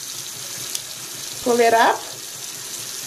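Tap water runs steadily into a sink during handwashing, a soft continuous hiss under the whole clip, while a person speaks briefly in the middle.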